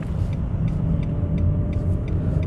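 A car pulls away in second gear during the final minutes of a driving test, its engine a steady low rumble with road noise and faint periodic ticks, continuous and close inside the cabin.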